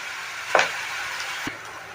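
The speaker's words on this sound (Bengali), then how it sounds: "চলুন এগুলো একটু ভেজে নিই।" Green chillies and onions fry in a pan with a soft steady sizzle, a brief louder hiss bursting up early as more chillies drop in and a small clatter later; no talking.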